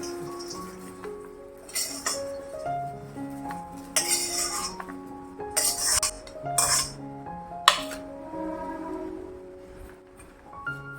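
Metal utensils clink and scrape against a plate in scattered bursts as a cooked raw mango chutney mixture is scooped from the pan onto it, over a soft background tone.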